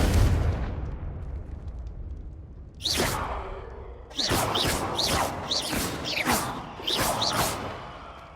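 Several sharp magical blasts from the Confringo fire spell in Hogwarts Legacy, a quiet lull first, then one burst near three seconds and four rapid explosive bangs with whooshing tails close together.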